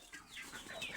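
Quails kept inside a net enclosure, reportedly sick and cold, give soft clucking and chirping calls, faint and close, over about a second.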